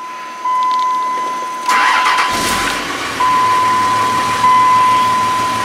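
A Dodge diesel truck fitted with an HE351VE turbo cranks over and fires up nearby, then settles into a steady idle with a faint high whine.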